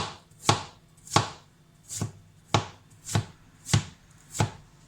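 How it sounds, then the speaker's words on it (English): A knife finely chopping chestnuts on a board for prawn won tons: seven crisp, evenly spaced chops, close and clear with no talk. "So you need to chop them very finely."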